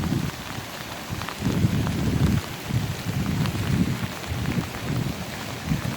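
Rain falls steadily in Sunnidale Park by Kidds Creek in Barrie, a continuous outdoor hiss with low gusty rumbles pulsing underneath, and no voices.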